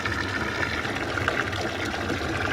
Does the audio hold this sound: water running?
yes